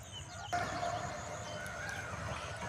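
Chickens of various breeds cluck on a poultry farm and a rooster crows faintly amid a busy outdoor background hum, with scattered bird calls.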